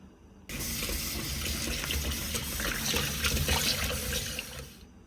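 Tap water gushes steadily into a sink while a salted fish fillet is rinsed by hand, a continuous close splashing flow that starts abruptly and cuts off near the end.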